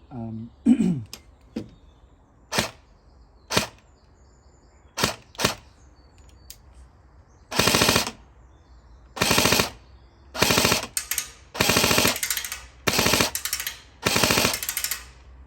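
A PTS ZEV elite carbine airsoft AEG fires BBs, first single sharp cracks and then several full-auto bursts of rapid mechanical buzzing, each lasting about a second, loud and close, with someone speaking briefly at the start.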